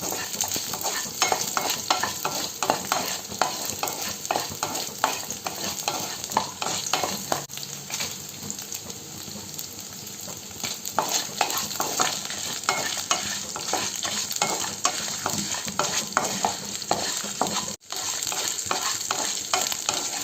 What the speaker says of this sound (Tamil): இப்போ இந்த மல்லியை நம்ம இதில் போட்டு வதக்கணும்.